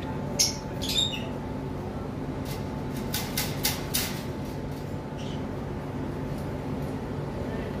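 Parblue opaline budgerigars give a few scratchy squawks and chirps early on, over a steady hum, followed by a cluster of quick high chatter in the middle and quieter room noise at the end.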